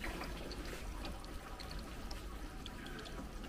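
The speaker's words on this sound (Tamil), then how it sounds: "இப்போ தண்ணி கம்மியாக கொட்டிகிட்டு இருக்கு" Water from a smart irrigation system's valve pours and trickles at a low rate, a steady, continuous hiss-like splash close by, with no speech.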